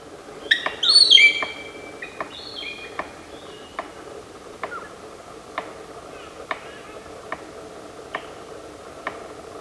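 Palm cockatoo drumming: a series of sharp, isolated taps spaced at a fairly regular, unhurried rhythm, preceded by a cluster of shrill bird calls and whistles at the start, all moderately near in a quiet outdoor setting.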